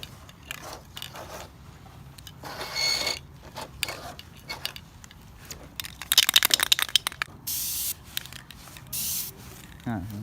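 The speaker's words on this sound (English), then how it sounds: "Oh yeah, some paint's coming out." A spray paint can sprays short bursts onto a plastic 1:48 scale Corsair model airplane, several hissing puffs separated by clicks, shakes and handling noises, fairly close and quiet overall.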